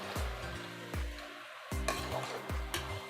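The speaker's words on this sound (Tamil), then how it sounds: "ஒரு 10 நிமிஷம் சிக்கன் நல்லா வதங்கணும்." Chicken drumsticks sautéing with turmeric and salt in a pan: four spaced stirring strokes scrape through a soft sizzle, quiet and close, with no voices.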